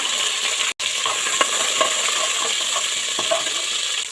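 Cumin, black pepper and fenugreek seeds sizzle in hot oil, a steady dense hiss with scattered light pops and a few faint clicks of a spoon, and one abrupt instant of silence early on.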